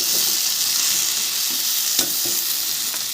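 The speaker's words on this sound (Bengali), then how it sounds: "আর মশলাটা কষতে থাকবো" Spice paste sizzles and fries in a pan for a Bengali dish of taro root and lentil dumplings, a loud steady hiss punctuated by a few soft scraping stirs of the spoon.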